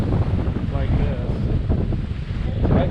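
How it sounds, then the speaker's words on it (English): Strong wind roars steadily across open water at Key West during a sailing trip, a dense, continuous low rumble of gusts buffeting the microphone, loud and close throughout. "Not with this wind."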